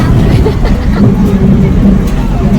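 Low engine rumble and road drone fill the inside of a bus travelling toward Karwar, a steady loud hum with faint background voices mixed in throughout.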